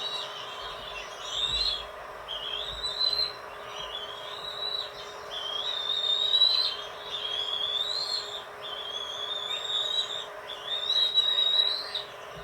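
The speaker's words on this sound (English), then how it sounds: "It's really loud in the nest today." Birds call repeatedly at a nest with shrill, rising whistles in a steady series, loud and close, over a faint background hum.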